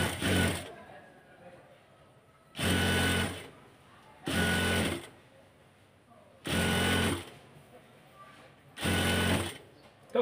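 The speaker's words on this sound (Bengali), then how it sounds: "এখন এই যে কাপড়টা দেখতেছেন এটাকে এভাবে মুড়িয়ে একটা সেলাই দিব।" A sewing machine stitches a rolled fabric edge for a round neckline, running in five loud close bursts of a second or so each, separated by pauses where faint handling and a voice can be heard.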